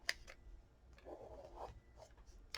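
Pen or pencil writing a title in notes, then underlining it: faint close scratchy strokes with a longer rubbing stroke in the middle and a few light taps.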